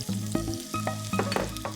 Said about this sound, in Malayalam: ബാക്കി എണ്ണയിലോട്ട് നമ്മുടെ കുറച്ച് സവാള.